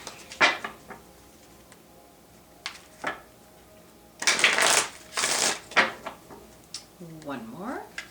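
Tarot cards being shuffled by hand in short bursts of riffling and slapping, a few brief rounds spread across the span, with a voice briefly speaking near the end.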